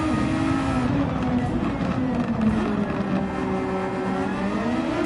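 Ferrari race car engines in a racing video game, a loud, sustained high-revving whine with shifting pitch as the cars pass, with commentary talking faintly underneath.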